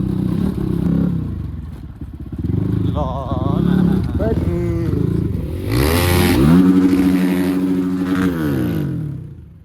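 A motorbike ridden along a road in the Sikles area, its engine droning steadily and then rising in pitch as it accelerates. Rattles and clatter sit under the engine, and voices talk through parts of the ride.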